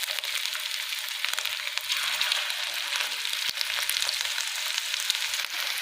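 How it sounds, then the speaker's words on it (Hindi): Chapli kebabs fry in hot oil over a medium flame, giving a dense, even, close sizzle that holds steady throughout with no talking. "तो एक एक करके हम अपनी कबाब डालेंगे।"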